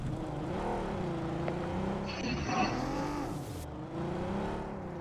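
A car engine in the mobile game BGMI hums and revs, the pitch rising and falling as the vehicle moves, with brief higher game effects in the middle.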